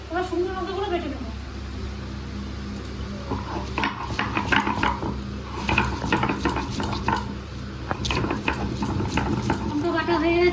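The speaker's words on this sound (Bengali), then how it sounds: "এবার শুকনো লঙ্কাগুলো বেটে দেবো" Dried red chillies ground on a traditional grinding stone while cooking rohu fish kalia, giving a steady, gritty scraping and rubbing that runs continuously beneath a person talking.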